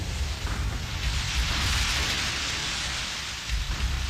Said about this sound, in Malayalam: ചൊരിയുന്ന മഴയുള്ള ഒരു നിലാവുള്ള രാത്രി